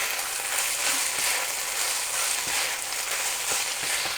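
Shrimp and ground pork sizzle over high heat in a zucchini stir fry, a loud, steady crackling hiss running throughout with a few faint clinks of stirring.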